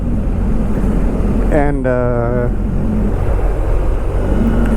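A motorcycle exhaust at steady cruising speed with a stock-sounding big chrome exhaust, a constant low rumble mixed with wind noise throughout while a rider briefly speaks over it.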